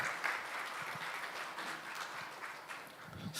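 An audience claps steadily for a few seconds, a soft, even patter of many hands heard from a distance.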